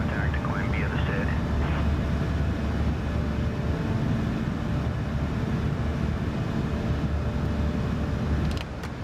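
Airliner climbing after departure in Microsoft Flight Simulator 2024, a steady, loud engine roar with a broad rumbling hum that runs unbroken, as voices talk over it at the start.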